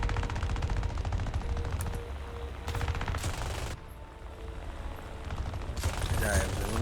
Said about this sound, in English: My gunner keeps firing.